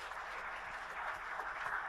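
An audience at the grand opening of the KIEF 2023 conference, with Ukraine's Prime Minister present, applauds in a steady, dense wash of clapping from a crowd heard at moderate distance.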